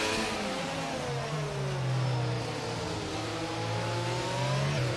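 A race car engine whines and drops in pitch as it brakes into a corner in a racing video game on a Mexico circuit, steady and loud, with a commentator talking over it.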